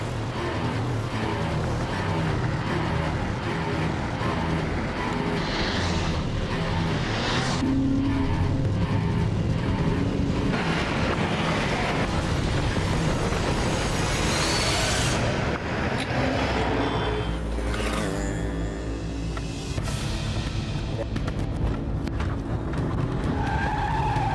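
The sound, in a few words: cars speeding and overtaking in a chase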